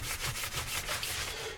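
Leather dyed and then buffed, the cloth rubbing steadily over the surface in a continuous brisk swishing with regular strokes, close up and fairly quiet, with no talk.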